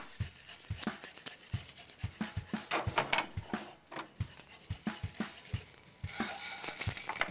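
Whole eggs frying in a pan for an Andhra egg masala, with a continuous sizzle and regular knocks and scrapes from a spatula.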